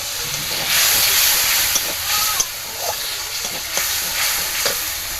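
Masala frying in a pan after a splash of water, giving a loud, steady hiss and steamy sizzle, with occasional spoon scrapes and stirring clicks heard up close.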